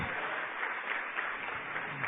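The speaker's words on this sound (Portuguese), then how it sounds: "vamos aplaudir muito o nosso Senhor Jesus" A church congregation applauds together, making a steady, dense wash of clapping that holds at an even level, muffled and somewhat distant, with no talking over it.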